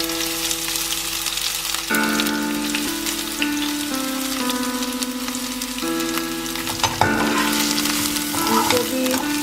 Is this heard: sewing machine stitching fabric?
no